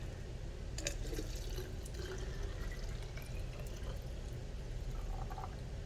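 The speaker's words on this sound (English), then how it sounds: "I'm going to use the rest of this water." Water pours steadily into a bottle, a continuous trickling wash with faint splashes, no voices.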